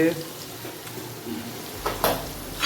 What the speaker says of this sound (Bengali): এদিকে বিরিয়ানি আলু ভাজা চলছে